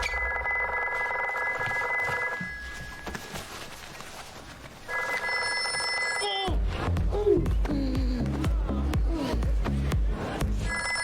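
A telephone rings in an interactive thriller game, with electronic ring bursts repeating in two spells and a pause between them, before louder music and effects take over.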